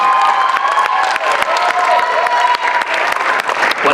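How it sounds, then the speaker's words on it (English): An audience at a spoken word poetry showcase breaks into dense, loud applause with cheering and scattered whoops, a steady roar of clapping throughout. "Another round of applause for Jose"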